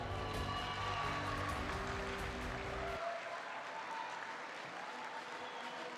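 An audience at a G20 digital innovation summit bursts into sustained applause and cheering for a women founder award winner, a broad wash of clapping that continues steadily after background music cuts off.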